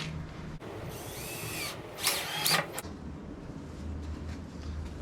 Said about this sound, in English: This time I'm going to start by drilling the last board here